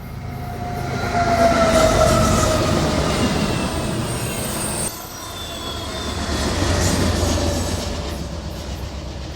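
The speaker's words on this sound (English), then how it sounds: "thriving with fast freight trains all day and all night, such as the one directly behind me." A BNSF freight train rolls past on the Staples subdivision in Minnesota, a loud, sustained rumble of wheels and cars with a high metallic squeal and rhythmic clatter, fairly close and continuous.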